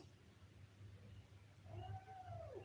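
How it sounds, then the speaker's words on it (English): Complaining cat giving a drawn-out, rising-then-falling meow near the end, faint and fairly close over a low background hum, with no talk. "I've never met a cat that complains more than this cat."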